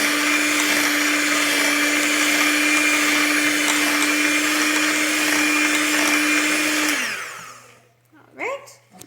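An electric mixer whirs steadily through pumpkin muffin batter, loud and close for about seven seconds before winding down and stopping, followed by brief faint clatter.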